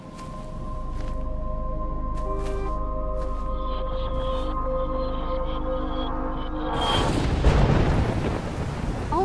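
Storm ambience from the game Life is Strange, with a low rumbling wind bed and scattered tones before a loud crashing thunder burst near the end, no talk.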